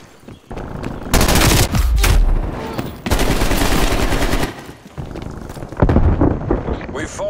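A sentry turret in a Call of Duty match fires in long, loud automatic bursts separated by short pauses, a heavy rattling barrage with some rumbling underneath.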